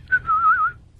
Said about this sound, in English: Or whistle a happy song.